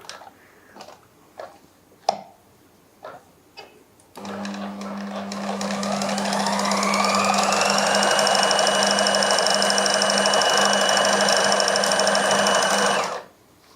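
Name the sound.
sewing machine stitching lehenga piping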